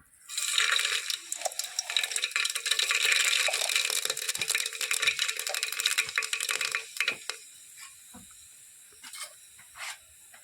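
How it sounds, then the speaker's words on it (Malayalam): Mustard seeds splutter in hot coconut oil in a pan, a loud, dense crackling hiss that fills several seconds and then thins out into scattered pops. "ഇനി ഇതിലേക്ക് കടു ഇട്ട് കൊടുക്കാം"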